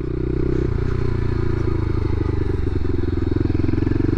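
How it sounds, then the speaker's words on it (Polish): A 2021 Romet SCMB 125cc motorcycle engine revs steadily with a rough, throbbing drone, loud and close, its pitch shifting slightly as it accelerates. "Naprawdę motocykl przyspiesza bardzo"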